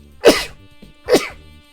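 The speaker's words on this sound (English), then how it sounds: "Excuse me, I gotta sneeze." Two sharp, close bursts about a second apart, each an explosive sneeze-like or cough-like exhalation, with quiet gaps between.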